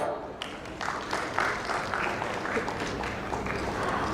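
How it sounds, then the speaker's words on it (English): Audience at an insurance industry summit and awards event applauding as a panelist walks on stage, a steady wash of clapping with scattered louder claps, held at an even level throughout. "Please welcome with a huge applause."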